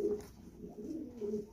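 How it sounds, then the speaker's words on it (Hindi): Pigeons of a show breed coo softly in a low, rolling murmur, a few close repeated calls over a quiet background with no talk. "कुरीज में है कबूतर लेकिन माशाल्लाह से बहुत ही ज़बरदस्त।"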